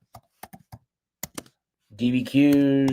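Several sharp keystrokes on a computer keyboard are typed in short irregular clusters in a quiet room, close and clear, before a voice begins speaking.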